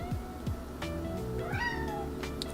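A cat meows close by in a drawn-out, rising and falling call, heard over a low background hum.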